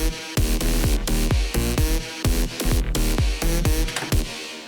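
An electronic music mix plays a punchy kick drum on a steady beat under a bright lead synth melody, loud and alone, with brief gaps between phrases.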